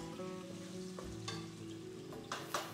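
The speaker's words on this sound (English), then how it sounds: "So we're gonna wait about a minute for the onion to cook." Onion frying in a pan on a stove at high heat, a quiet steady sizzle with a few stirring scrapes and clinks, and no voices.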